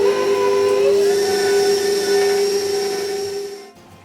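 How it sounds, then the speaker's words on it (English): Electric mixer with whisk attachment beating butter and peanut butter, a steady, loud, high motor whine held for a few seconds before it cuts off abruptly. "we're going to add our butter and beat it with the whisk attachment until it's light and creamy"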